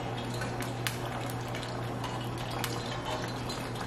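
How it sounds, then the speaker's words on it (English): Haitian griot, pieces of fried pork, sizzles and bubbles steadily in hot oil in a pan, a continuous soft crackle with occasional small pops and a low hum behind it. "So we're frying it so I can get some color."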